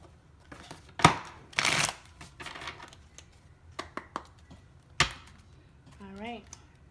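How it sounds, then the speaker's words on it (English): Tarot cards being shuffled during a zodiac reading, several quick papery riffles and bursts with short taps, close by, with a voice briefly speaking near the end. "give me one more shuffle"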